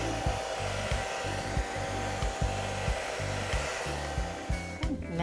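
Close, loud hair dryer blowing steadily, with regular low thumping pulses through the airflow and a brief rattle near the end.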